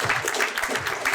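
A crowd at a left-wing and ecologist municipal election rally breaks into applause, a dense, steady wash of clapping that holds for the whole brief moment.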